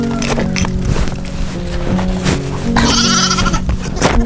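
A goat bleats loudly and close, several wavering cries in a row over a busy, noisy background, with no talk.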